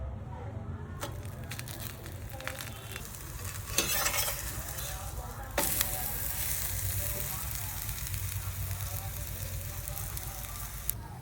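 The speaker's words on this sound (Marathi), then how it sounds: "आता आपण त्यावरती त्याला मस्त भाजून घेऊ तेल टाकून" Methi paratha roasting with oil on a hot pan gives a steady soft sizzle and frying crackle throughout, with a few brief louder scrapes or clatters near the middle and no talking.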